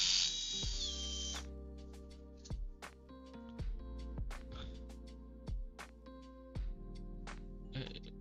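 A powered screwdriver backs Loctite-secured screws out of an Xbox Series X console, several short whirring and ratcheting bursts close up with quiet gaps between them.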